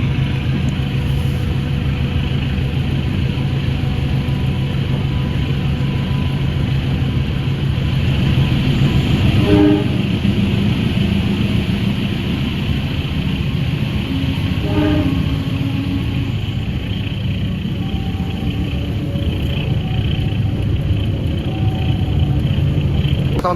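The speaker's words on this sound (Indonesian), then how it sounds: "kereta api lokal komuter lain Garut telah sampai di stasiun Cimindi untuk naik turun penumpang ya" A local commuter train bound for Garut pulls into Cimindi station at night, a steady low rumble of wheels and engine with faint periodic clanks, continuous and fairly loud throughout.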